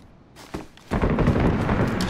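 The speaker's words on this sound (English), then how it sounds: "I'm just immune to the sound of the fireworks here in game now." Fireworks from the game DayZ in Chernarus: a faint pop, then a loud sustained crackling burst that keeps rumbling on, with no talk.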